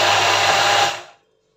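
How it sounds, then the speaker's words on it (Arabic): An electric grinder whirs loudly as it grinds an almond mixture, a steady motor drone for under a second that then winds down and cuts to silence, close with no talking. "غادي نطحن هذا الخليط مزيان"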